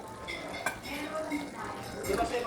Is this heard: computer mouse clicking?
no